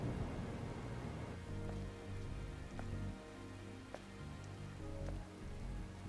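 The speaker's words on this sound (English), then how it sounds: "This must be the Earth's rain." Rain falls in the Stellar Blade video game, a steady dense patter on surfaces with faint rumbles beneath, continuous and moderately close without voices.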